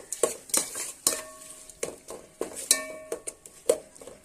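A spoon stirs and scrapes ginger-garlic paste in a metal pan for chicken curry, giving a series of light clinks and scrapes at an uneven rhythm with no talking.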